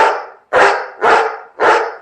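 A person imitates a dog barking, four loud, close barks spaced evenly about half a second apart, each with a sharp onset and a trailing fade.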